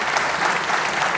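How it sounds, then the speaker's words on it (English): Dense, sustained audience applause at a conference panel, many hands clapping loudly and evenly throughout. "I hope you can hear the claps."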